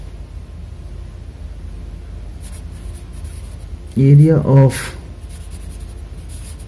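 A pen scratches steadily while a Class 10 maths solution on circle areas is written out by hand. The writing is a continuous, soft, scratchy sound, briefly covered by a short burst of speech.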